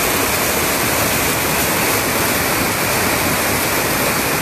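Floodwater rushes over flooded Route 23 near Rosario de Lerma. It makes a loud, constant, broadband roar that stays even throughout, with no other sounds standing out.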